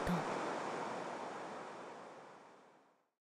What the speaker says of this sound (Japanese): 高さおよそ10メートル幅30メートルの鍋津大滝周囲の森に響く独特の水音